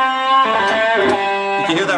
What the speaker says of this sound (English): You can hear that reverb.